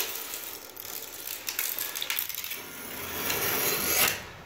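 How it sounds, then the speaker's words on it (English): A plain scraper blade scrapes unprepped paint off a bathtub, giving a close, gritty rasp with scratchy ticks that builds into a louder, smoother scrape toward the end of the short stretch. "It's literally just a plain scraper blade."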